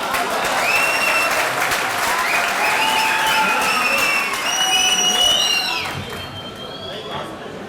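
Audience at an Urdu poetry mushaira applauds loudly and steadily, a dense sustained clapping crowd with a few voices and whistles mixed in, fading toward the end.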